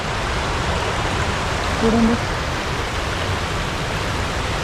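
Waterfall runoff rushes through a forest stream in Andharban, Maharashtra, as a loud, even hiss that never lets up. A voice says a single brief word midway over it.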